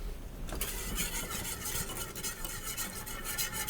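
Whisk stirring roux into a pot of simmering stock in a kitchen, a steady scraping, swishing rhythm of utensil against the pot that runs continuously at close range with no talking.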